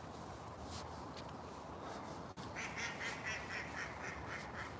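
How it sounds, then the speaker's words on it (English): Ducks quack in a quick series of nasal calls, a little distant, over a steady outdoor hiss. "The ducks are awake this morning."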